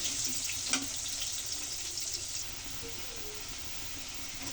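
Potatoes frying in oil give a soft, steady sizzle with a few stirring scrapes near the start, fairly faint and settling into a quieter hiss toward the end.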